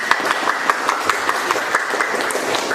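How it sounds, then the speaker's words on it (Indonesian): Classroom applause for a student group: a steady wash of many hands clapping together, dense and even throughout with faint voices underneath. "Kasih aplaus buat kelompok 3."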